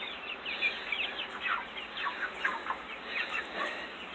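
Baby chicks in a brooder chirp and cluck continuously in a busy, overlapping chorus, close and fairly loud, with a fan humming faintly underneath.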